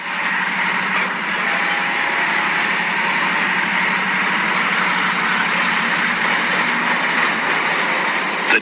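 Two diesel locomotives rumble steadily on the rails as they approach, with a loud, continuous engine drone that holds throughout.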